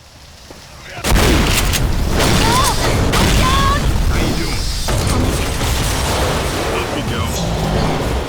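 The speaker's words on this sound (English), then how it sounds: "the spectacle of the gas station detonating" A gas station detonates in the video game Left 4 Dead: a sudden loud boom followed by sustained rumbling, crackling debris and mechanical clatter, with talk running over it.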